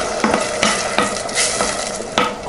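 Tomatoes cooking in melted butter and olive oil in a pan, a continuous sizzle broken by several sharp stirring scrapes at roughly even intervals, close and clear with no voices.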